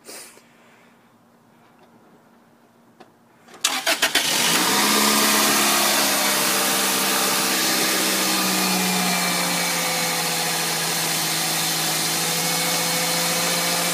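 A 2000 Toyota Celica GT engine cranks and catches after a few quiet seconds, then settles into a loud, steady idle close by.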